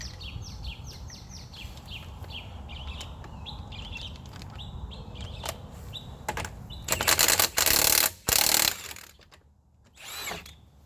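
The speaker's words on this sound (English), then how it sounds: "those birds over there are driving us crazy. I'm sure you can hear them in the camera" Birds chirp in quick repeated bursts in the background while a loud power tool whirs in several harsh bursts nearby during a brake pad and rotor job on a Dodge Caravan.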